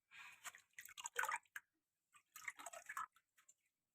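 Water drips inside a hill cave at Khandagiri, falling close by in irregular clusters of small splashes separated by short quiet gaps, fairly faint against a still background.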